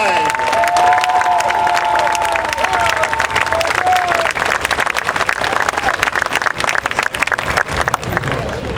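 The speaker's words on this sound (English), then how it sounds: "a big round of applause for Joe's other daughter, Wetta Frazier Collins" A crowd at a statue dedication ceremony for boxer Larry Holmes breaks into sustained loud applause and cheering, dense clapping continuing throughout with a few whistles early on.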